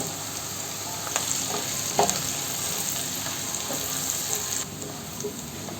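Steady sizzling of onions, garlic and green chillies frying in a pan, with a few soft stirring knocks and scrapes over a constant bright crackle.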